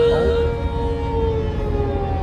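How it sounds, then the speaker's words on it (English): A tornado siren wails in a long, steady tone that slowly falls in pitch, loud and droning, with faint voices underneath, during a total solar eclipse. "It's tornado siren."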